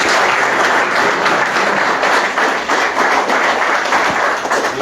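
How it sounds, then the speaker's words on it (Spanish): A crowd at a dairy cooperative's World Milk Day celebration applauds a speaker, loud, sustained clapping from many hands with some sharper individual claps standing out, holding steady for several seconds with no talk. "Pues un aplauso al..."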